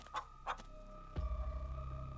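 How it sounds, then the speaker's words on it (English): Weak chicken clucks from a bush in the Scarlet Hollow video game, two soft clucks followed by a low droning game tone. "As you approach, a series of weak clucks calls out from a nearby bush."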